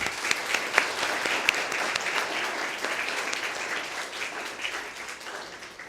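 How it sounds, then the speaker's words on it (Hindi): A crowd at a panel discussion on higher education claps steadily, a dense patter of hands with a few sharper claps standing out, tapering slightly toward the end. "आप तालियों से इसका स्वागत करेंगे।"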